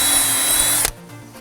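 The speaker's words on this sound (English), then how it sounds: "this will hold it in place while we drill the rest of the holes" Power drill boring mounting holes for a Leviton structured media center enclosure during a rough-in, a loud steady whine that runs close and continuous before cutting off abruptly.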